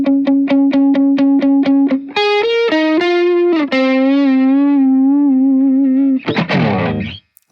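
Electric guitar solo with distortion and a modulation effect, starting with fast repeated picked notes, then sliding, sustained wavering lines and ending in a noisy burst of pick scrapes.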